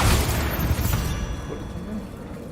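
A Bombarda blasting spell explodes in Hogwarts Legacy, a loud, dense boom that opens at full force and then settles into a long, heavy rumble with no talking over it.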